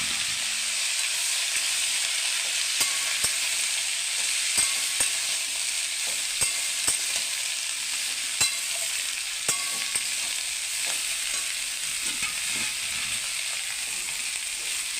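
Bottle gourd frying in hot oil with panch phoron and a dried red chilli in a wok, a steady close sizzle with occasional sharp scrapes and taps of a stirring spoon, no voices.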